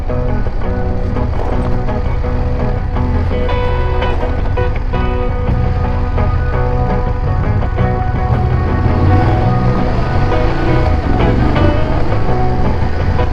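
A BMW F850 GS motorcycle ridden off-road over bumps. A loud, steady engine drone mixes with heavy wind rumble and rattling from the rough ground.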